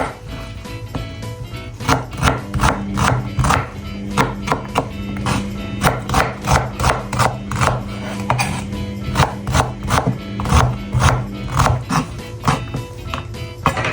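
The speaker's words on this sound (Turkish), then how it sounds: "İki baş soğanımızı da bu şekilde doğruyoruz." Two onions are diced with a knife on a wooden board for a homemade chicken pide: a fast, steady run of crisp chopping taps, close and loud, with no talking.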